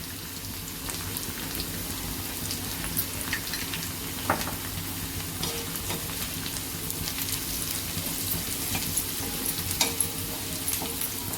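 Onion browned in a pan with half a spoon of turmeric added, frying with a steady, crackling sizzle and occasional spoon scrapes and clinks, close and moderately quiet, continuing throughout.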